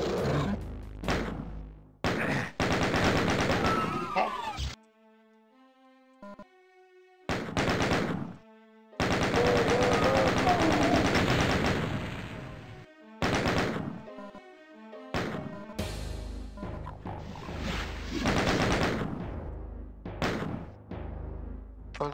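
Gunfire in the 1993 video game DOOM: bursts of loud, punchy shots come in clusters, separated by short quiet gaps filled with faint game tones.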